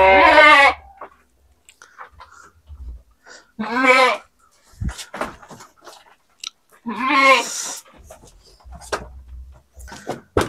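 Young male goats, roughly seven to eight months old, give three loud wavering bleats in a clean goat pen, separated by quieter rustling and chewing sounds.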